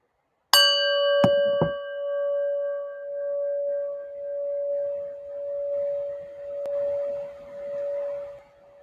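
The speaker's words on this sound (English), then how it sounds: "So let's listen to our little prayer bell here." A small prayer bell is struck once, giving a bright clear ding followed by two quick lighter taps, then a long pure ringing tone that slowly pulses and decays over several seconds.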